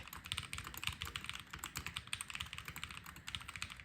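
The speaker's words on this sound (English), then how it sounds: "the WL Mouse Ying 75 is one of the best looking keyboards I have, and it sounds one of the best as well as a stock experience" Someone types quickly and steadily on a WL Mouse Ying 75 Hall effect keyboard, producing a close, fairly quiet run of crisp, evenly paced keystrokes with no talking.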